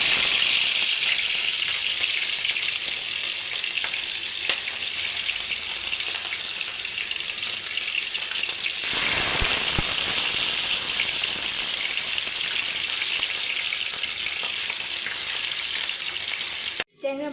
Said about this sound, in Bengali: ট্যাংরা মাছগুলো আমি এখন সুন্দর করে ভেজে নিব।